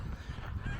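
Ducks and other waterfowl by the lakeside at Crow Park in Keswick, a brief burst of low honking calls close by, continuous and rough with no talk.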